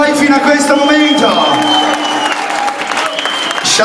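A club crowd at an after-hours party applauds and cheers, a loud mass of clapping and whoops over a sustained musical drone.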